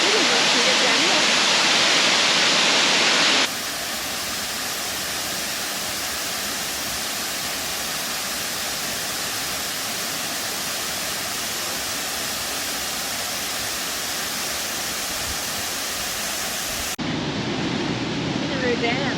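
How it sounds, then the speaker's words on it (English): Waterfall on the Atherton Tablelands rushing with a steady, broad roar, loud and continuous close by, with a brief change in tone near the start and end. "Nice falls, aren't they?"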